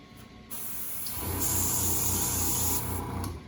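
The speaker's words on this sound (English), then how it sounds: "So the difference in nozzles is this is going to be a lot wider spray." A close, steady hiss of spray paint from a wide nozzle blasts for a couple of seconds, starting and stopping abruptly, with a broad airy rush.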